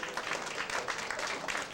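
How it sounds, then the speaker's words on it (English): An audience gives the on-stage performers a big round of applause: a brief, dense wash of many hands clapping at close range, steady and loud throughout. "a huge round of applause for all of you stars"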